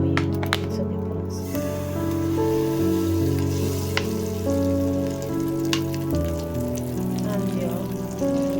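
Red palm oil heating in a soup pot for vegetable soup, a steady close sizzle and crackle running throughout beneath a low, sustained hum, with a few sharper pops early on.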